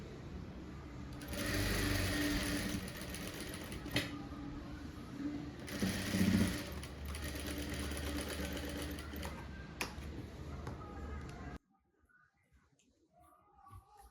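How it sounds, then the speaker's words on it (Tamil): A sewing machine stitches a blouse band in a tailoring class, whirring steadily and fairly close for about eleven seconds before stopping abruptly into near silence. "இப்போ இந்த பட்டி நம்ம தைச்சி எடுத்தாச்சு"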